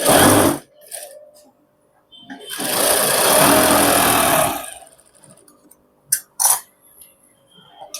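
A sewing machine stitches pant fabric in a short loud burst of about two seconds, set between brief handling knocks and clicks, with no talking.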